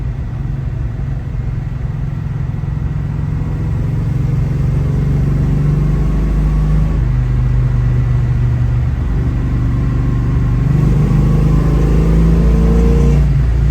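A 1971 Plymouth Duster's engine drones loudly and steadily while driving, rising in revs toward the end as the car accelerates, with no voices.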